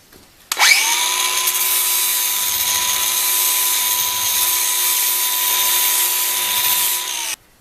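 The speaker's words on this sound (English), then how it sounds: "I'm going to take the flap disc and smooth out the extension." A flap disc on a power grinder smooths a welded barrel extension on a 1910s pop gun, producing one continuous high-pitched whine that spins up abruptly, holds steady and loud for about seven seconds, then cuts off.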